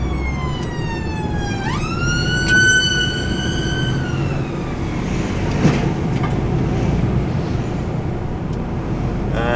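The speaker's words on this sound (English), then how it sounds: "Ambulance." An ambulance siren wails and warbles over constant road noise, rising sharply then holding a sweeping tone before fading under passing traffic.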